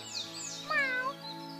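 A kitten gives a single thin, high meow that rises and then falls, close and clear, over a faint steady tonal background.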